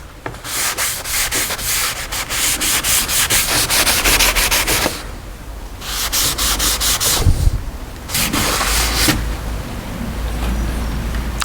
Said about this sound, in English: I'm going to roughen up this plate a little bit